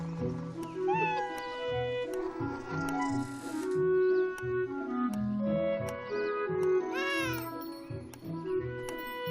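A cat meows repeatedly in the game Beyond Eyes, with clear rising and falling calls over a soft, steady game music bed.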